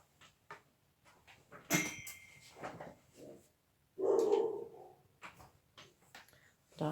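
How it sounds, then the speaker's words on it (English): Dogs bark in the background of an indoor crochet session, one louder burst standing out among scattered fainter barks and small noises. "Dogs are going nuts."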